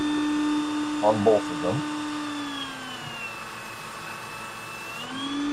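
A power drill whines steadily while boring shallow mounting holes, about an eighth of an inch deep, into blocks for an arc reactor build; the motor pitch sags and then rises again, and someone speaks briefly over it.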